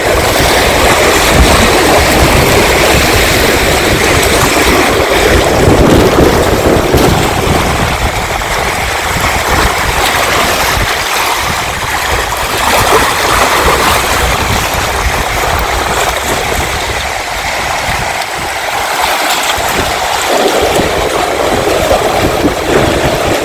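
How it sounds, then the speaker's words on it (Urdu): Waves wash continuously against the shore of Lake Yverdon in Switzerland, a loud, steady surf with gusty wind noise on the microphone and no talk. "چلیں اب میں خاموش ہو کے آپ کو صرف یہ لہروں کا شور سنواتی ہوں"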